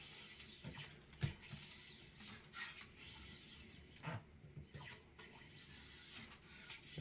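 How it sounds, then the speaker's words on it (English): Nylon bore brush pushed back and forth through a 6mm ARC rifle barrel, giving soft raspy scrubbing strokes repeated at an uneven rhythm, close and fairly quiet, with no talking. "run this nylon brush through a couple more times just to make sure everything is broken loose in there"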